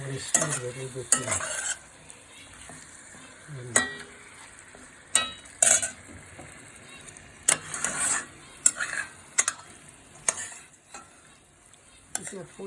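A utensil stirs chicken biryani in a frying pan, giving irregular scrapes and clinks over a soft background sizzle.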